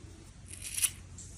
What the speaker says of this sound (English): We'll take our scissors, cutting about an 8 or 10 inch tail